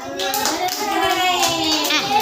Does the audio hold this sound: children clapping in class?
yes